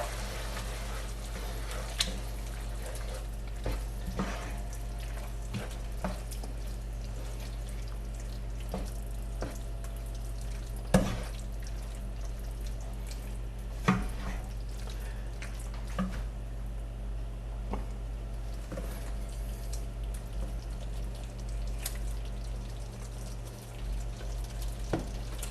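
Marinara tomato sauce with cooked mince stirred in a pan, a low steady simmer with wet squishing and occasional scrapes and taps of the spoon against the pan, quiet and continuous, with no talk.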